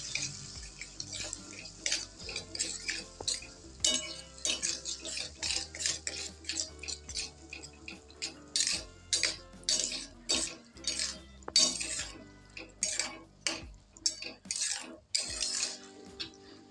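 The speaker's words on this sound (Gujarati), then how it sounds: "હવે આ દહીંને આપણે ઝડપ રાખીને સરસ રીતના મિક્સ કરી લઈશું" Curd is stirred fast in a pan with a spoon: a quick, steady run of sharp scraping and clinking strokes up close, going on without pause.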